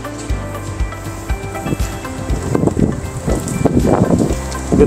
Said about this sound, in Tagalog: Ganda ng lakas ng hangin.